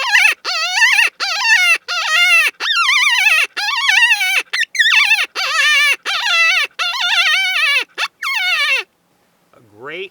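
Distress calls blown on an open-reed howler mouthpiece fitted to a short Yoter barrel, a rapid series of loud, wavering, wailing bleats with brief gaps, close up, ending in a faint trailing squeal.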